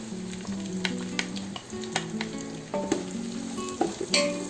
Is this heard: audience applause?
no